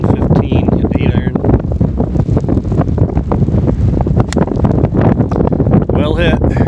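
Strong wind buffets the microphone on a golf course, a steady roaring rush across the whole stretch, with a few faint voices beneath it.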